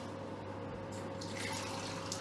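Water pours into a thick-bottomed pan of carrots, a soft trickle over low background hum that turns into a brighter splashing gush partway through, close and alone without talking.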